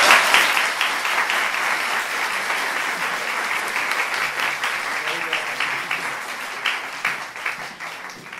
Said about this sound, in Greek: Χειροκροτήστε